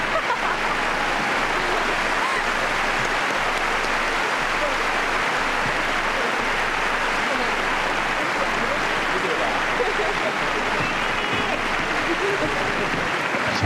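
A large audience at a figure skating exhibition gala claps continuously, producing a dense, even roar of applause that fills the arena at full loudness for the whole stretch.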